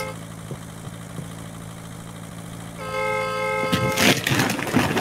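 A car horn in the driving game The Long Drive gives one sustained, steady honk over a low engine hum. A loud, rough burst of noise follows it near the end.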